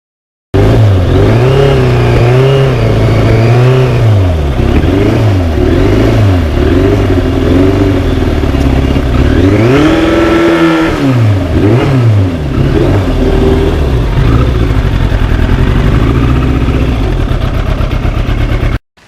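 A 1991 Yamaha FZR 1000 motorcycle with a twin exhaust roars loud and close, its engine rising and falling through repeated revs, with one long, higher-pitched climb midway, alone without talk.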